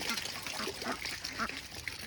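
Young and full-grown ducks quack on a duck farm in Assam, giving a continuous, overlapping chorus of fairly soft calls close by.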